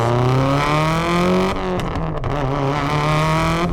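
A 400 hp Subaru STi running on E85 with a rally-style exhaust revs loudly up close, its engine tone climbing, briefly dipping with crackle, then holding a strong droning rev.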